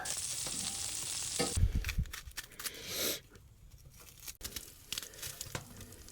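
Butter frying in a pan at a cold-weather camp, with a loud hissing sizzle that cuts off abruptly, followed by quieter crackles, rustling and handling noises nearby.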